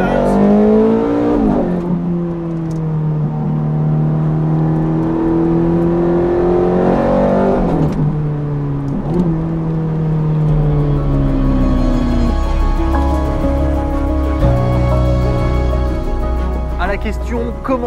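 Ferrari 430 Scuderia sports car driven hard on the Fiorano circuit, its engine note sweeping up through the revs and dropping at gear changes several times, loud and close throughout with steady cabin roar.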